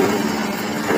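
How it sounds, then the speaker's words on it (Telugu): A 2 HP single-phase electric motor on a paper plate making machine runs steadily, giving a close, even hum with a low mechanical drone and no pauses, alone. "2 HP మోటార్ సౌండ్ వినిపిస్తుంది."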